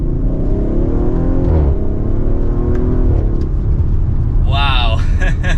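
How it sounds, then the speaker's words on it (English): A 2023 Audi RS5 Coupe with active sport exhaust pulls hard under acceleration in second gear, a loud rising engine drone with a gear change midway, heard from inside the cabin as a person speaks near the end. "This gets up and moves with that active sport exhaust too. I like how loud it is."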